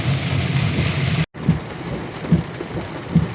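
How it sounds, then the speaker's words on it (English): Heavy tropical downpour during flooding in Montellano, Puerto Plata, Dominican Republic, a dense steady roar of rain with low rumbling thunder swelling in repeated booms, heard alone and close. "The rain is too hard right now."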